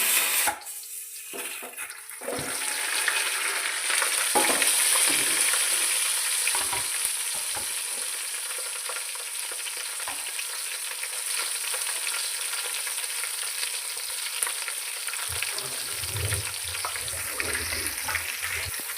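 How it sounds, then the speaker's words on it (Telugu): Green chillies fry in a pan for sambar, a constant bright crackling sizzle that continues for the whole stretch, with a couple of brief clatters early on. "సో దీని తర్వాత పచ్చిమిర్చి కూడా వేసుకుందాం"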